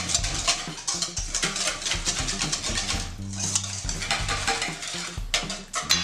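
Buttermilk marinade for fried chicken is stirred together in a bowl: steady scraping and swishing with clinks of utensil against dish, close and fairly loud, running continuously with no talking.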